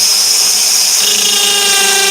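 Power drill boring through a wooden part with its bit gripped by hand, giving a loud, steady whining chatter with a harmonic buzz that holds throughout.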